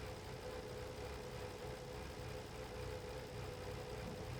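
A tractor engine in Farming Simulator 25 runs at a steady, droning rev with a constant low rumble and mechanical hum, unchanging throughout and without voices.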